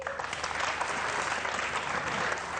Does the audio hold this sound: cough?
no